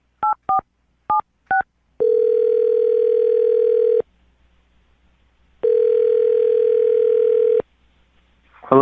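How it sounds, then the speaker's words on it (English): Touch-tone telephone keypad beeps, four short tones, then a long steady ringback tone, a pause of silence, and a second matching ring, clean and close. "I'm going to dial the phone number right now and get him on the phone"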